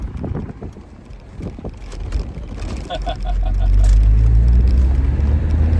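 A 1995 MGF Roadster drives over a bad, bumpy road, with loud rumbling road and wind noise that builds to a heavy steady roar, plus scattered knocks and rattles from the cabin.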